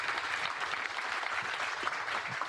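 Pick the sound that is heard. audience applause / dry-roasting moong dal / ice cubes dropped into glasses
audience applause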